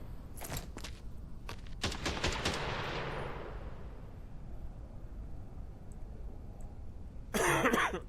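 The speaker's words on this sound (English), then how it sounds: "Stop coughing on me." A character in a quarantine-zone horror video game coughs in a few sharp bursts early on over a steady noisy hum, and a loud harsh burst comes near the end.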